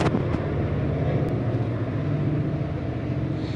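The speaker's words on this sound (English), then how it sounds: "Now this is a freight train." Freight train passing on the desert line between Las Vegas and Los Angeles, a continuous low rumble with a steady hum, loud at first and easing slightly as it goes on.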